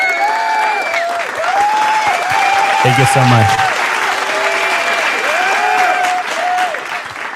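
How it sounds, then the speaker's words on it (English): Steady applause from a crowd runs through the whole stretch, loud and close, with a host talking over it and a brief louder burst in the middle. "let me give you a clap"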